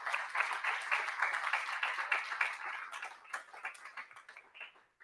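Audience applause at an awards ceremony honoring a 40 Under 40 recipient, a steady wash of many hands clapping at a moderate distance, fading out toward the end.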